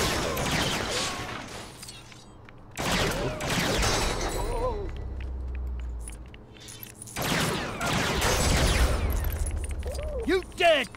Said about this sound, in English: So if I use the cannon